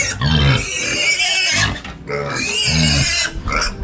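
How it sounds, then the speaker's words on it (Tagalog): Pigs grunt and squeal loudly at feeding time on a small Filipino farm, close by, in two bursts of rough, busy oinking with a brief lull between. "Papakain muna tayo ng baboy mga kabungot."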